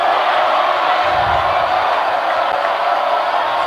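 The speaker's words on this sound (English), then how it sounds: "This Pius crowd getting rowdy." A roaring crowd at a varsity high school football game between Pius X and Gretna fills the air with a dense, continuous, loud cheer, broad and steady, with no distinct voices standing out.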